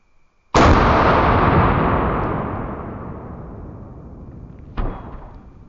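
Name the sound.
rifle shot with Hornady VMAX bullet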